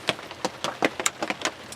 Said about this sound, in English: Unfortunately, we stuck in the rain.